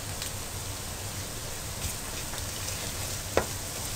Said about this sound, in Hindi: अब प्याज हल्का हल्का फ्राई हो गया है तो इसमें लहसुन पेस्ट डालूँगी।